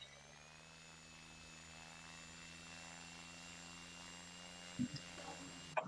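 A plane's engine in the Simple Planes video game drones with a faint, steady hum through a takeoff attempt, with a few soft clicks near the end.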